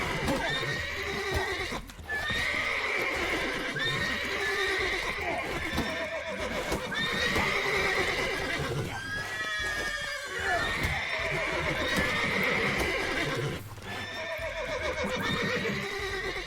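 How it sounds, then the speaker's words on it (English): Spooked horses in The Witcher 3 video game neigh and whinny repeatedly amid clip-clopping hooves, several overlapping calls at mid distance, with a voice talking at times over the commotion. "Also, that's a lot of spooked horses."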